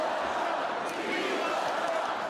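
A dense convention crowd roars and chants in unison, loud and sustained throughout, a thick wall of massed voices filling the hall.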